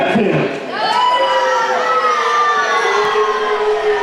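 A pro wrestling crowd in Brownstown reacts to a wrestler, loud mixed shouting and jeering voices with rising whoops and whistles filling the hall.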